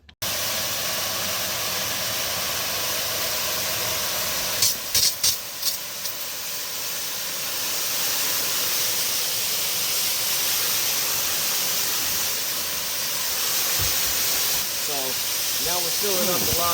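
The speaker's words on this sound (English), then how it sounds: "Now we're filling up the live wells." Water from a garden hose fills the live wells of a boat with a steady, broad hiss and rush that grows slightly fuller partway through, along with a few brief clatters.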